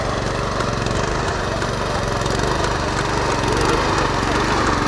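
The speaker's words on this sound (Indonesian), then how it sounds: "kultivator ini membajak di ladang yang kering seperti ini teman-teman" A Firman FTL 820 cultivator tractor plows a dry field, its small engine droning loudly and steadily up close, with a continuous rough mechanical rumble and no talk.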